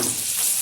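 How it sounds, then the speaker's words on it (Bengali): Chopped onion dropped into hot oil seasoned with spices and a little turmeric for a dal, giving a loud, dense, close-up hiss that stays steady through the brief moment, with no voices. "দিয়ে দিচ্ছি কুচিয়ে রাখা একটা পেঁয়াজ"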